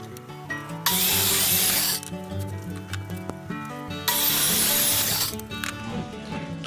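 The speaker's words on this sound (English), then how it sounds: "Routing the edges. To make them rounded." A handheld router rounds the edges of a wooden lid, giving two loud bursts of high whining cut, each lasting a second or more, over a steady background of music and shop noise.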